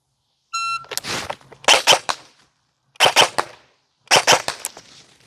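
An S&T UST45 UMP45 replica airsoft gun fires in rapid bursts after a short electronic timer beep, with four clusters of sharp, close shots separated by brief pauses.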